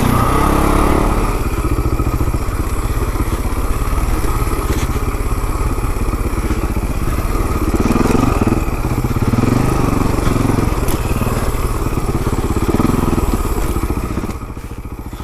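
Enduro motorcycle descending a steep shale and scree hill, engine droning steadily at low revs with rocks clattering and the bike thumping over loose stones, loud and continuous throughout.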